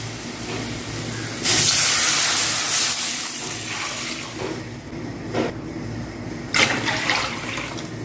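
Water poured into a pan of softened fried onions for semiya upma, a hissing, gushing burst that sizzles up sharply then settles into steady bubbling, with a couple of shorter splashes later.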